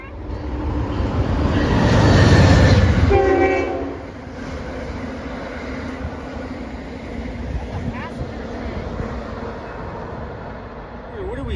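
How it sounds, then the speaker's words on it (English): A train rumbles past nearby with a loud swell and horn-like tones in the first few seconds, then a steady lower rumble continues. "Choo-choo train!"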